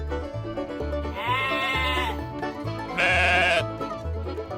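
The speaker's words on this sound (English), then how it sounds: "Baa, baa. That's how a sheep talks." A farm sheep gives two drawn-out, wavering bleats, close and clear over a steady low rumbling background.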